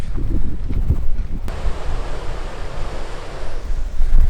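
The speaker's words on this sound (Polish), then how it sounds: "Fale są dość duże i wszędzie skały, to jest niebezpieczne." Large ocean waves crash on a rocky beach on Santa Cruz in the Galapagos, a loud close roar of surf washing continuously with buffeting wind noise.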